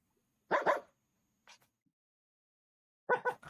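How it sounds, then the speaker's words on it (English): Dog barks from the Minecraft video game, two short double barks with a faint yip between them, moderately close and separated by silence, with no talking. "I heard doggos."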